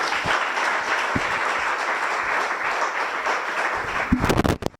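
Audience applause at a gathering, a steady broadband wash of clapping that holds for about four seconds and then swells into louder, sharper claps near the end.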